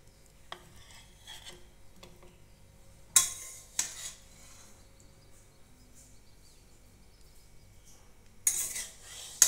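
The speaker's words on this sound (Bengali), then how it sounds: "এখন এটাকে আমি ডিশে নামিয়ে দিচ্ছি।" Cooked yardlong bean, eggplant and potato curry being spooned from a pan into a dish, with faint scraping and a few sharp metal clinks of the spoon against the pan, mostly quiet between them.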